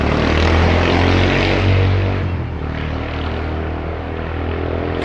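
Propeller airplane passing overhead about a quarter mile away, a loud steady droning engine roar that holds throughout and eases slightly as it moves off, with no voices.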